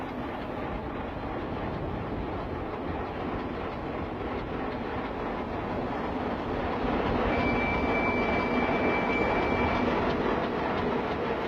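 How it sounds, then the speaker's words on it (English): An Alco S6 switcher locomotive hauls two dead locomotive hulks out of a line in a rail shop, giving a steady rumbling roll of heavy wheels and engine that swells slightly louder toward the end, with a faint high squeal. "The unit has two locomotive hulks in tow as it pulls them out of the line."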